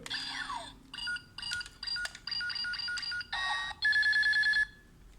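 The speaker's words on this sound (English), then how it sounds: "it makes that kind of like targeting sound" Electronic toy gun beeps and warbling targeting tones in short bursts from an Engine Sentai Go-Onger DX Wing Trigger, starting with a falling zap, then stuttering pulses and a sustained trilling tone.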